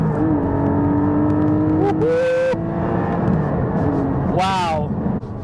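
A 2022 Porsche GT4 engine revs while driving, held below about 4,000 RPM, producing a loud, continuous drone with rising and falling pitch sweeps as the throttle changes, with talk over it.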